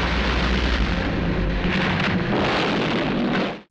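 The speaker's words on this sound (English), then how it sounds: "Then the boat runs aground and explodes." In a killer-crocodile film scene, a boat runs aground and explodes in a loud, dense roaring blast that rumbles steadily for a few seconds before cutting off abruptly.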